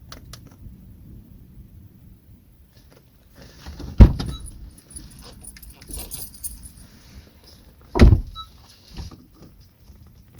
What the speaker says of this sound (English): Bring in the new smart key to start the programming procedure.